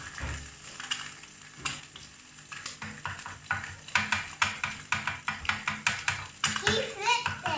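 An egg frying in a pan with a soft sizzle under rhythmic scraping and stirring clicks, close by, with people talking intermittently.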